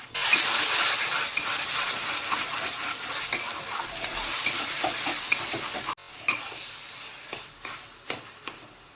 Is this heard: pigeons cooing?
no